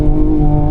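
A 2024 Ford Ranger Raptor engine holds a loud, steady high-revving drone near redline, close and continuous, while the truck races across deep snow on an ice track.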